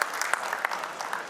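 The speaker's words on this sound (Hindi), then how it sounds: "जोरदार तालियों के साथ आप" A short burst of crowd applause, dense clapping spread evenly through the whole moment, fairly loud and close.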